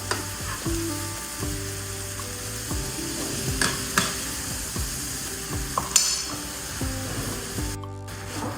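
Fish fries in a pan, sizzling steadily and loudly close up, with occasional clinks and scrapes of a utensil and a brief burst of spattering near the end.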